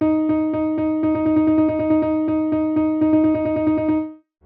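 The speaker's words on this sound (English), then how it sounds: "You can keep going with 9 notes within a beat." Fast repeated pitched tones subdivided nine to a beat as a tuplet, played crisply and evenly in a continuous stream, alone without voices, ending in a brief cutoff.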